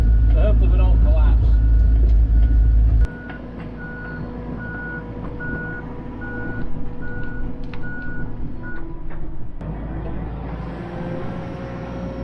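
Heavy excavation machine reversing over a pipe trench in unstable sand and gravel soil, its backup alarm beeping steadily in a regular series over a loud engine rumble that starts heavy and then drops lower.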